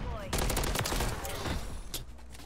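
Sustained automatic weapon fire in Modern Warfare 3, a continuous burst of close, rapid gunshots that tapers off toward the end.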